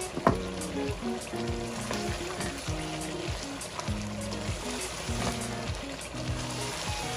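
Packaged biryani masala fries in a large pot of beef with a steady, close sizzle, broken by scraping stirs. Background music plays throughout.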